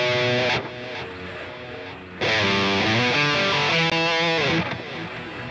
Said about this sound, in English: the grain delay sounds like this.